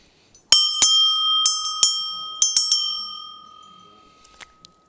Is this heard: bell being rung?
yes